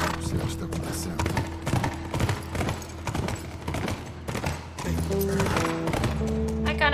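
Horse hooves clopping in The Last of Us video game, a rhythmic stream of hoof beats under game music and effects, fairly loud and near, with a sustained musical tone entering toward the end.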